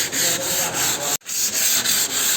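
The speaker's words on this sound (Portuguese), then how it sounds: "Só que aqui eu tô lixando com a lixa 80" Steady, coarse sanding strokes with 80-grit sandpaper over polyester body filler on an old car rasp back and forth with a brief pause midway, loud and close, with no voices.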